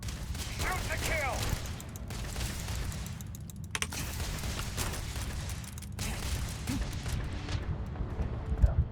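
Rapid bursts of gunfire in the Starfield video game, repeated shots and booms over a rumbling low-end background for nearly nine seconds, with game voices or speech faintly mixed in.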